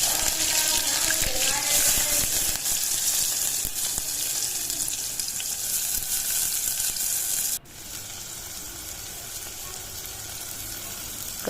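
Cumin, mustard seeds, curry leaves and onion sizzle and crackle in hot oil in a home kitchen, a steady loud fry throughout that drops slightly quieter partway, with some watery clatter and no talking.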